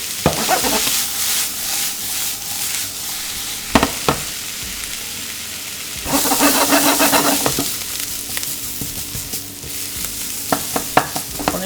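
Vegetables sauté in a frying pan while being stirred, a steady sizzle broken by sharp spatula clacks and scrapes against the pan, with a brief word spoken.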